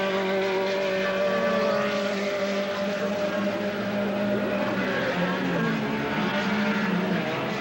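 Classic race cars lapping at the Wallerfield circuit in Trinidad, engines droning loud and continuous with shifting pitch as they pass, steady and unbroken, with faint crowd or voice noise beneath.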